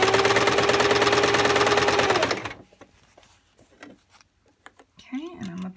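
A sewing machine stitches a curved waistband with a fast, loud, steady mechanical whir, then stops abruptly, leaving quiet handling noises and a short voice afterward.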